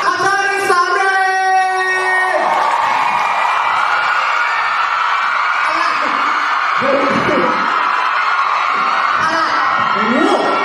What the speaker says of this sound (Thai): อ่ะขอเสียงปรบมือให้กับอินที่ต้องเป็นเปลี่ยนชุดนะ